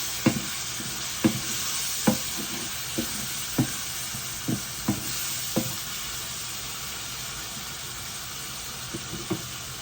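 Tomato and ground garlic sautéing in oil for a curry, a steady broadband sizzle with a string of sharp stir or spoon clacks at irregular intervals, close and moderately loud, no voices.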